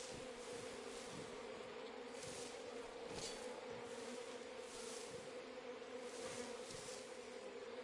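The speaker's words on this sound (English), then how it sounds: "I hear bees." Bees buzz steadily in Metal Gear Solid 3: Snake Eater on PS5, a dense, continuous droning hum from a swarm with faint pulsing swells and no speech.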